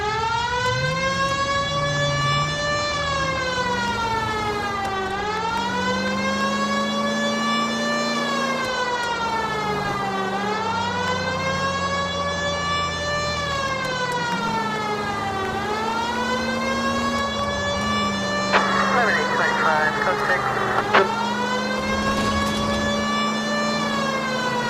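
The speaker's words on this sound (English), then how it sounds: "Now we can do the siren." A police car siren in the video game L.A. Noire, a loud continuous wail rising and falling in long sweeps over a low engine drone, with no talking.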